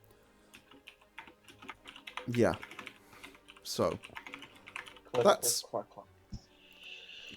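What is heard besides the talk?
typing on a computer keyboard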